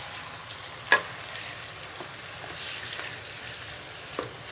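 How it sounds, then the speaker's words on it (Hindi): Mutton pieces sizzle steadily in oil with garlic-ginger masala for balti gosht, a continuous close frying hiss broken by a few sharp spatters and stirring scrapes, no talking. "और इसको चला देते हैं, यानी कि इसको भी इसके साथ भून लेंगे"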